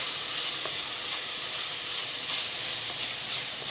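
Onion sautéing with curry leaves and chopped green chillies for a Malayalam-style breadfruit curry: a steady, even sizzle and crackle of frying throughout, close and fairly loud, with no voices.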